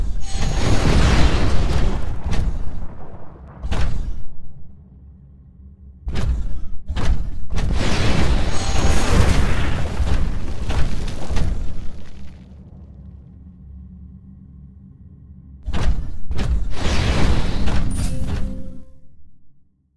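Rocket explosions in the video game Titanfall, several loud booming bursts in clusters with short gaps between them, set against a low rumbling background.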